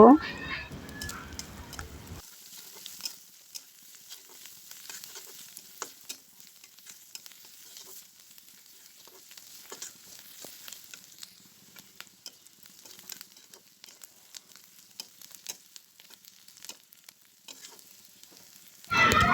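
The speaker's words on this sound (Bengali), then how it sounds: "এখন আবার ভালো করে ভেজে নিব" Onion being fried in a pan with turmeric for a coconut fry dish, stirred as it cooks. The quiet sizzle and crackle runs steadily, with scattered scraping taps, and brief talk comes at the start and the end.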